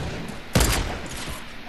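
Gunfire in a squad-based video game: a single loud burst of shots with a brief tail, followed by quieter scattered reports and a faint tone near the end, with no talking.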